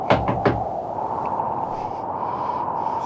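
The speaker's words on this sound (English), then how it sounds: "In a moment now, you'll hear me knock on Santa's door, and he'll unlock it" Three quick knocks rap on a door in an old-time Christmas radio drama, close and crisp, then a steady low hum continues alone.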